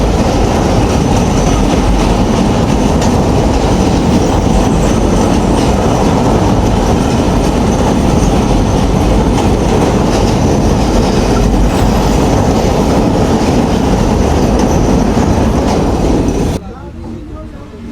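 Rupsha Express train running on rails, a steady loud rumble with rhythmic clatter of wheels on track that carries on throughout before dropping off abruptly near the end.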